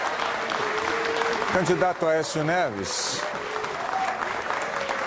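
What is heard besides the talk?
audience applauding at a presidential debate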